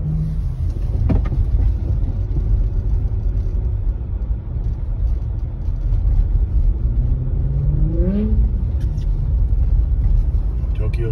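Loud, close car engine rumbling and revving during drifting, with the pitch rising and falling in swoops near the end and voices talking over it.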